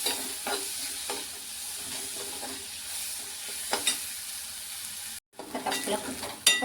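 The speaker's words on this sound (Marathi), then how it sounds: "शेंगदाणे, कांदा आणि टोमॅटो एकदम मस्त छान भाजून घेतले मी" Peanuts, onion and tomato roast in a pan with a steady close sizzle, broken by repeated scraping stirs and a brief pause near the end.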